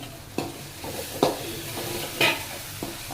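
Tomatoes with spices sauté in a pan for a capsicum egg gravy. A soft, steady sizzle is broken by about four sharp spatula scrapes and knocks at irregular intervals, close by.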